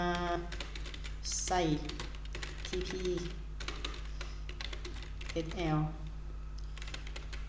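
Rapid clicky typing on a computer keyboard runs throughout, close and fairly quiet, under a person speaking Thai.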